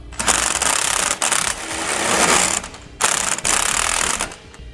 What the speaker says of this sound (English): come back with a 3/4 inch socket and wrench, and we're going to snug up our end link bolts